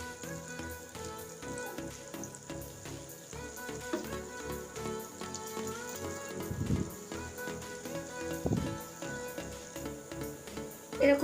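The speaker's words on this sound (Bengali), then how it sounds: "ভেজে নেব, পুরোটা একসাথে দিব না।" Potato fingers frying in hot oil in a pan, cooked a few at a time: a steady close sizzle with crackling bubbles throughout, plus a couple of brief louder rustles as the pieces are moved.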